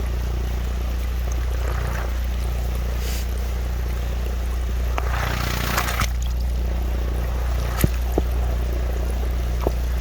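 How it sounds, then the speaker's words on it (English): Air bubbles rising from an aeration stone in a dugout pond, a continuous watery gurgling and rushing close by, with a few sharp clicks and knocks near the end. "See how the bubbles come out of the stone?"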